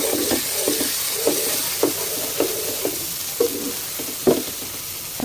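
Spice paste frying in a wok (kadai), cooked until it pulls away from the sides, for a dried-fish and jackfruit-seed curry: a constant soft sizzle broken by evenly spaced stirring strokes, heard close with no talking.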